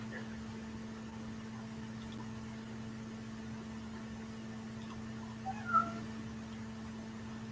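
A cat lets out a single short meow late in the clip, fairly close but quiet, over a constant low electrical hum and room noise with no talking.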